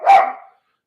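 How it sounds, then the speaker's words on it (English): One loud, close puppy bark, a single sharp yelp that fades within about half a second, then silence. "He's going to bark for 5 days."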